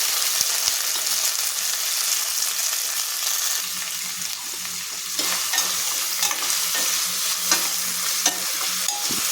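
Thinly sliced onions and curry leaves frying in hot oil on a stove, giving a steady, close sizzle with occasional stirring scrapes throughout.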